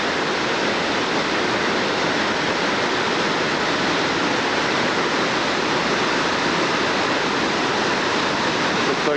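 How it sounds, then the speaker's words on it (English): A dense, constant roar of cascading water from waterfalls and a swollen river beside Going-to-the-Sun Road in Glacier National Park, June 1994, loud and unchanging throughout. "so we can hear the waterfalls in the background"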